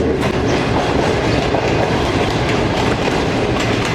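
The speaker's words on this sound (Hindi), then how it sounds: "ये आ गया है जी दरिया रावी के ऊपर बना हुआ रावी ब्रिज, जिस पर से हमारी शालीमार एक्सप्रेस गुजरने के लिए बिल्कुल तैयार है" Shalimar Express passenger train rolling across the Ravi river bridge, a loud, steady roar of wheels and carriages with continuous rumble and faint clickety-clack throughout, no voices.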